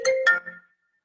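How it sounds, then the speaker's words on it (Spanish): A telephone gives a short electronic ringtone, two quick tonal bursts with a brief fading tail, heard once in a room. "Algún teléfono también se escucha"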